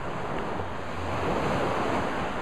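Surf rolls onto Mero Beach in Dominica, a continuous broad wash of waves mixed with wind buffeting the microphone, steady and fairly loud with no voices.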